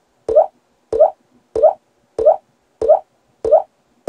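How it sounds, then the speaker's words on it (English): Seven identical water droplet plops in a cartoon sound effect, evenly spaced about every two thirds of a second, each short, bright and close, separated by silence. "And our first hint is a water droplet."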